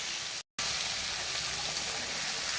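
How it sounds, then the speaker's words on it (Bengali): Running water rushing and splashing while a bowl is washed in a home kitchen, a loud continuous hiss broken by one brief silent gap. "আমার মা বাটিটাও ধুয়ে দিচ্ছে।"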